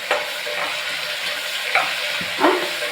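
Spinach being stir-fried in a pan for Karnataka-style idli sambar gives a steady close sizzle, with a few soft stirring scrapes and clinks rising out of it.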